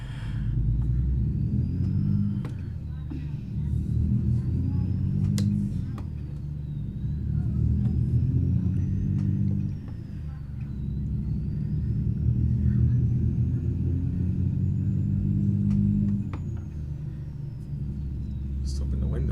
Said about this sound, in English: see what this engine sounds like